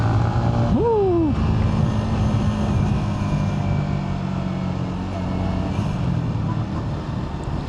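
Steady engine drone from a Yamaha XSR 155 motorcycle ridden during break-in on a Bulacan bypass road, a dense continuous rumble mixed with wind and road noise, plus a brief rising whine early on, with no pauses.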